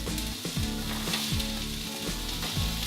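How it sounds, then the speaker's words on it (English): Garlic and onion fry in a pan with a loud, continuous sizzle, a few scraping stirs cutting through every second or so, no voices. "1 heaping tablespoon of garlic. Just letting that fry for a minute."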